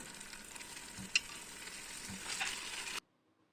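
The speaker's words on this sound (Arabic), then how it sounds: "نقليوه حتى يتقلى لنا مزيان اللحم والثوم." Meat and garlic fry in a pot with soft, steady sizzling and a single sharp stir clink, faint and close, ending abruptly in silence.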